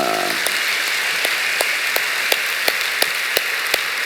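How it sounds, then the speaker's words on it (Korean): A church congregation at a Friday all-night worship service claps together, a steady wash of applause with sharp, evenly spaced louder claps ringing out in a regular rhythm. "우리 청동부를 위해서 우리 박수 한번 치겠습니다."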